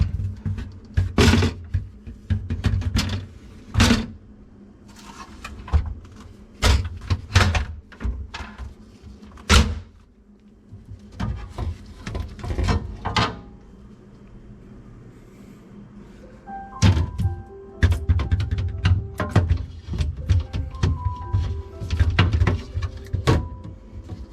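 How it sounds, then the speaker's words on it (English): Bottom shelf of a Samsung refrigerator being angled in and tilted back into position, a close series of irregular clunks, knocks and rattles with brief squeaks near the end. "left this shelf out right here, allow me to set it at an angle, get it in there, then tilt it in the right position"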